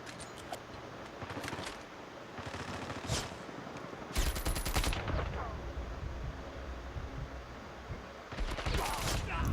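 Bursts of rapid automatic gunfire crackle through a Call of Duty Mobile match, several volleys in quick succession over constant game noise, with voices talking underneath.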